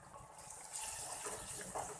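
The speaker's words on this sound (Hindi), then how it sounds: "इसमें हल्का सा पानी का छींटा लगाएंगे ताकि ड्राई मसाले जो डाले हैं वो जले ना" Water splashes into a hot cooking pan of dry spices, salt and coriander powder, for a potato and fenugreek curry, giving a steady gushing sizzle that swells briefly near the middle and again toward the end.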